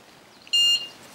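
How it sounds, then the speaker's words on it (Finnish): An electronic bite alarm on a carp fishing rod during a competition gives a single short, sharp high-pitched beep, loud and close against quiet outdoor background. "piippaus"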